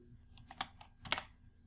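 Fingers tap a computer keyboard while entering a spreadsheet formula: a few quick, close keystrokes in a short burst, then a pause, with no talking.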